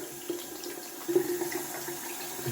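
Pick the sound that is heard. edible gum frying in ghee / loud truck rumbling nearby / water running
water running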